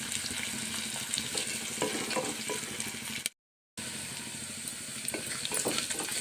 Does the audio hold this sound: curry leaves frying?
yes